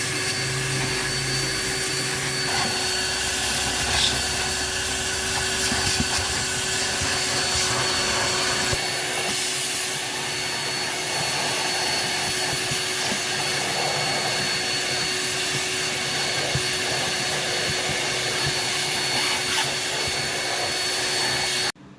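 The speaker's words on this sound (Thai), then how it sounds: "เราก็จะดูดฝุ่นทำความสะอาดภายในรถให้นะคะ" A vacuum cleaner runs steadily inside a Toyota Camry ACV during air-conditioning repair, a continuous loud whine with a high tonal hum and rumbling suction that shifts slightly as the nozzle moves, with no talking.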